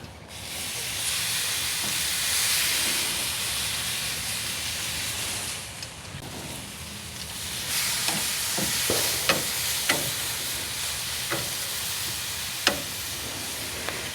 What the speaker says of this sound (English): it's time to get these tenderloins on the grill